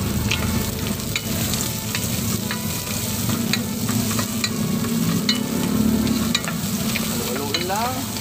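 Garlic and onion sizzle loudly and steadily in a pan for a Bicol igado, while a utensil scrapes and stirs close up throughout.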